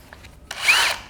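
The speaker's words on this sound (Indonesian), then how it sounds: "sekarang saya akan coba dengan mata bor yang lebih besar ya" A DeWalt drill fitted with a 20 mm bit at speed 2 starts boring with a brief, close grinding whir that lasts about half a second after a quiet moment.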